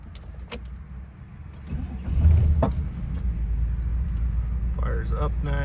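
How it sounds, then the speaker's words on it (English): A 1968 Lincoln Continental 460 V8 with automatic transmission cranks and catches, then settles into a steady low rumbling idle, with a voice speaking briefly near the end. "So I'm gonna hop in and fire it up here for you"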